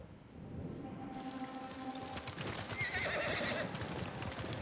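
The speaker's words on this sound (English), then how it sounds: "The horse riding looks really good." A horse gallops in the video game Ghost of Tsushima, with steady rapid hoofbeats over constant rain-like ambience and a brief whinny partway through. Clear and continuous, with no talking.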